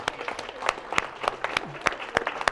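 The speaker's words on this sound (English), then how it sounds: "Give a round of applause for Darwin." A modest group gives a round of applause for Darwin, scattered sharp claps at an uneven rhythm, fairly close and moderately loud, with a brief voice murmur partway through.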